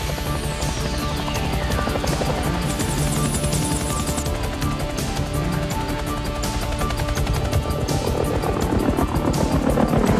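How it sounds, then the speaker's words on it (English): Helicopter flying during filming of the movie Cliffhanger, a steady loud rotor and engine drone with rapid chopping pulses that holds for the full length, no talk over it. "Rolling. Action chopper."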